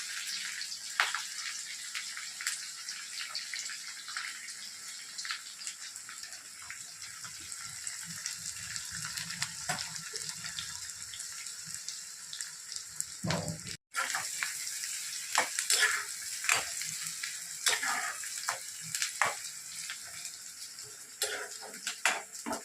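Curry leaves, onions and a green chilli fry in hot oil for a cauliflower curry, giving a steady crackling sizzle throughout with occasional sharp spits and a brief utensil clatter midway.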